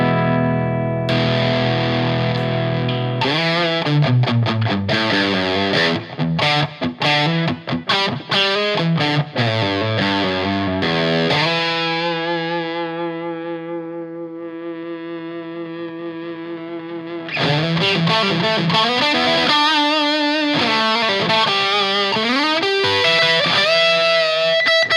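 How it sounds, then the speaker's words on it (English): Electric guitar played through a PRS Horsemeat overdrive pedal: loud, driven chords and fast picked runs, a sustained ringing passage that fades in the middle, then dense distorted strumming again, with no talking. "I'm going to be trying Horsemeat"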